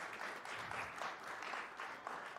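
Audience applause at a VEX V5RC high school robotics tournament, a fairly faint, steady wash of many hands clapping from a distance, no clear voices on top.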